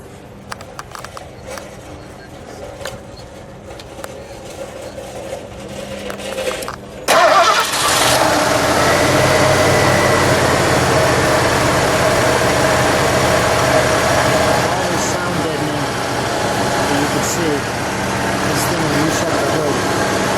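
A 1981 Lincoln Mark VI with its 302 engine cranks and fires after a quiet stretch, then settles into a loud, steady, close idle that runs to the end.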